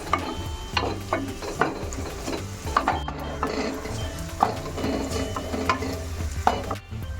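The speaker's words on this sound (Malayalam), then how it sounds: "ഇനി ഇതിലേക്ക് ചതച്ച് വെച്ചിരിക്കുന്ന ഐറ്റംസ് കൂടി ചേർത്തിട്ട് നന്നായിട്ടൊന്ന് ഇളക്കി കൊടുക്കുക" Shallots and crushed spices frying in coconut oil in a pan, stirred with a utensil that scrapes and clicks in an irregular rhythm over a steady close sizzle, with no talking.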